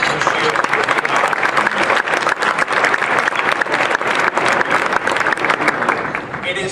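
Audience at an awards luncheon applauding Anthem Blue Cross Blue Shield, a dense burst of clapping from many hands that stays loud and steady for several seconds, then slowly thins.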